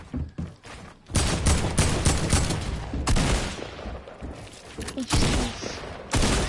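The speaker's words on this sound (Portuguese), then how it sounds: "Só estou a ouvir tiros." Rapid gunfire in the video game Fortnite, bursts of automatic and single shots crackling in clusters with brief gaps, loud and close in the mix.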